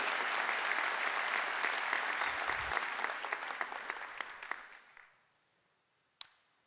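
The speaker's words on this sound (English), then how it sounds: "Folks, please give Lynn a huge round of applause." A keynote audience at a tech summit claps for a speaker, dense applause that thins into scattered claps and fades out, followed by a single sharp tap near the end.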